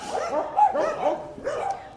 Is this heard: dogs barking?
yes